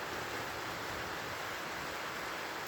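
Heavy rain pouring steadily in Uganda, a dense continuous hiss filling the space with no breaks, loud and close with no voices.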